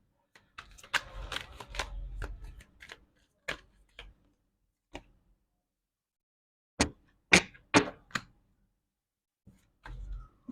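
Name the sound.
drawing a card from a psychic reading deck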